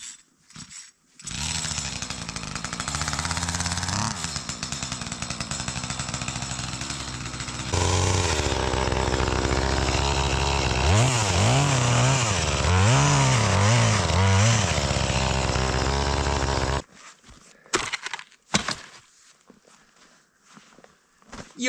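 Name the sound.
chainsaw cutting fallen trees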